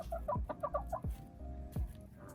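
Young pullets cluck softly nearby in short, quick bursts, a few clucks at a time with brief gaps, in a quiet backyard pen with faint thumps underneath.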